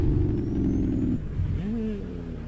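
A heavy truck engine in the video game American Truck Simulator drones loudly, dips in pitch as it shifts gears, then climbs again under power.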